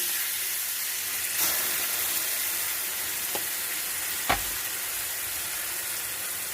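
Steak frying in a pan with masala wine, a steady broadband sizzle and hiss throughout with a few faint clicks and taps of cookware, close and uninterrupted by speech.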